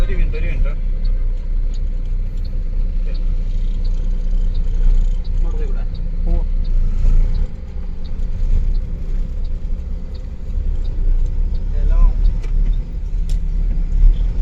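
Continuous road traffic on a bridge on the NH66 highway in Kerala, India, rumbles loudly under police traffic control, with cars and heavier vehicles passing steadily and a voice talking over the din.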